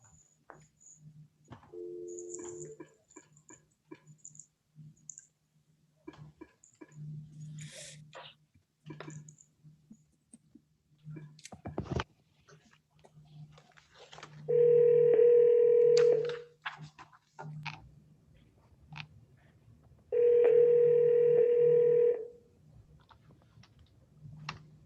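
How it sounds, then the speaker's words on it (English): A telephone call ringing out from an office meeting room line, with dialing clicks and tones followed by two long, loud electronic ring bursts separated by a pause. "Let me see if I can get him on the phone."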